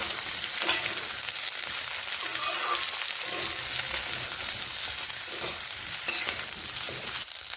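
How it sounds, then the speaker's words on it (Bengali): Eggplant frying with mung dal in a pan, a steady close sizzle with scraping stir strokes throughout, no voices. "বেগুনগুলোকেও এই ডালের সঙ্গে একটুখানি এইভাবে ভেজে নেবে"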